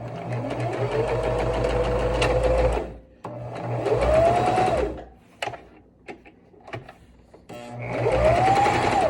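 Sewing machine stitching down the lining of a fabric face mask in three bursts, the motor whirring up and slowing between runs, with small handling clicks in the pauses.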